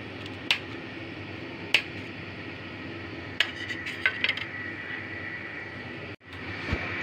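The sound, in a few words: knife cutting boiled gatte into pieces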